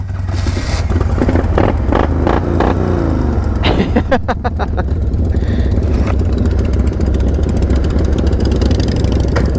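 An old, sketchy chopped motorcycle runs loud and close, its engine putting out a steady low rumble with a few sharp revving bursts near the start and no talk over it.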